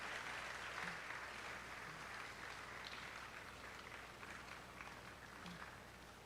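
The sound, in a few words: audience clapping for an awardee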